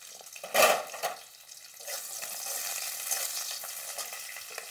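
Garlic, cashews and ginger pieces hit hot oil in a pan with a sharp burst of sizzling, then settle into a steady, moderate frying hiss with occasional stirring clatter.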